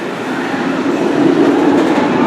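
The Smiler roller coaster at Alton Towers thunders along its track nearby, a loud, steady rumbling roar that swells slightly, with no talking.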